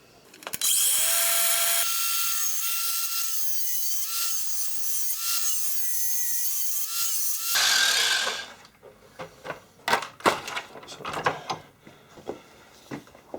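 A power tool whines steadily for about seven seconds as it cuts a slot into a thick metal washer, then stops abruptly. Scraping, clanking handling noises follow.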